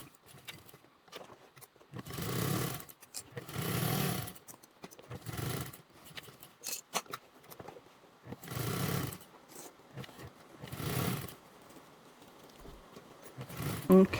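A sewing machine runs a basting stitch along a Taylor convertible duffle bag in several short whirring bursts separated by quiet pauses, fairly close and moderately loud.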